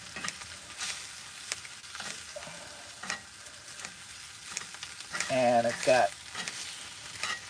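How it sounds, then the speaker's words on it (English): Steak with onions and fresh garlic sizzles in a pan on a camping tent stove, a soft, steady crackle close by, broken by scraping stirs and a brief louder flare near the end, with a short spoken word. "This is that sizzle steak."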